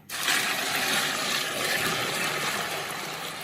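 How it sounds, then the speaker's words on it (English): Water gushes steadily into a bucket of carp bait particles, starting abruptly and continuing as a close, full splashing pour for several seconds. "So I'm going to add some water"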